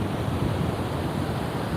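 Ocean waves wash onto a San Diego beach in a steady, full roar of surf and hiss, with wind buffeting the microphone throughout and no voices.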